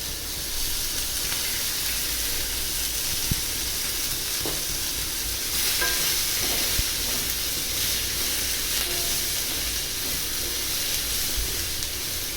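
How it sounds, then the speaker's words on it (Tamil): Banana stem stir-fry sautéing in oil in a pan, a steady close sizzle and hiss with occasional stirring clinks, no talking. "இதை நல்லா வதக்கிக்கோங்க சிம் ஃபுல்லாக வச்சு. கொஞ்சோண்டு எண்ணெய் ஊற்றிக்கலாம் மேலே."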